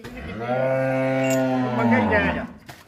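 A single cow at a cattle sale lets out one long, loud, close moo lasting over two seconds, tapering off with a short breathy sound at the end.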